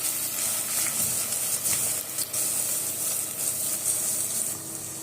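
Onion, garlic and curry leaves sautéing in hot oil for a tamarind curry with okra and brinjal, giving a steady, bright sizzle that crackles continuously with occasional stirring scrapes and no talking.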